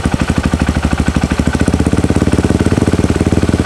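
A motorcycle engine tuned with a Juken 5 remote ECU runs up close and loud, with a fast, even pulsing firing rhythm and a slight stutter as the throttle is first opened.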